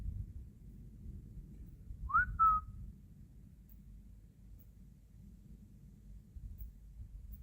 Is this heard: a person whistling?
yes